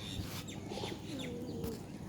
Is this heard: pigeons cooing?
yes